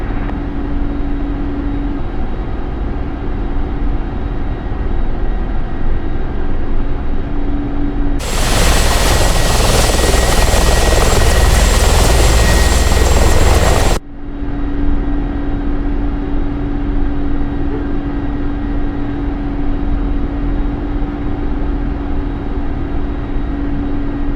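Simulated Mi-24P Hind helicopter taxiing in DCS World, a loud continuous turbine and rotor drone with a steady hum, interrupted midway by a burst of broadband roaring noise before the engine drone resumes.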